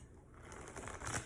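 A riffle of cards being shuffled, a quick papery flutter of tiny clicks building to a brief crisp finish, close and fairly quiet.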